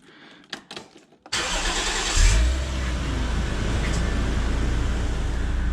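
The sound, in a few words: Toyota 1JZ-GTE engine first start with new intake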